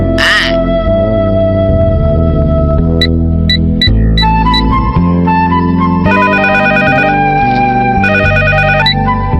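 A melodic electronic ringtone plays loudly and steadily, its bright tones repeating in short patterns with no voices.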